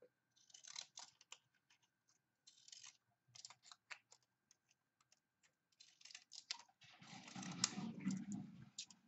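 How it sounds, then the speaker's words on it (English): Quiet, crisp snipping of scissors in short bursts with pauses between, followed by a louder rustle of handling near the end. "let's get our fancy scissors back out"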